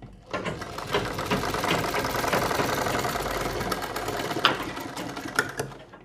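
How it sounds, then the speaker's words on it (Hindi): Sewing machine stitching box pleats on a Patiala salwar, a steady rapid mechanical whirring and clatter that starts after a brief pause and runs continuously at moderate, close range without speech. "अब हम इसके ऊपर सिलाई लगा देते हैं।"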